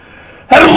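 A single sharp, loud sneeze bursts out suddenly after a near-silent pause, close to the microphone.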